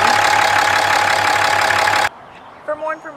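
A 2017 Ram 2500 pickup with a 6.7-liter inline-six diesel idles loudly and steadily with a low knocking rumble, then cuts off abruptly, leaving brief faint sounds afterward.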